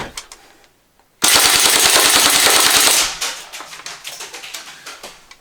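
Ares M3A1 airsoft grease gun firing plastic BBs indoors: after a short pause, one loud rapid full-auto burst of about two seconds, then scattered light clicks and patters of BBs bouncing down stairs.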